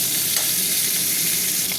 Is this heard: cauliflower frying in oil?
yes